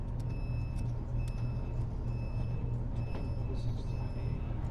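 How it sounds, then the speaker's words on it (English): Reversing truck's backup beeper sounds in the background as regular repeated tones, faint and distant over a steady low vehicle rumble, heard from inside a room. "I hear that truck beeping in the background."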